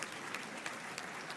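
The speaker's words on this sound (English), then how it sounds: "Clap for my society." An audience at a university vice-chancellor investiture ceremony applauds, a dense, steady wash of many hands clapping at a distance, brief and fairly quiet.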